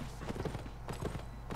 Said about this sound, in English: They're bringing out the tier 4 horses.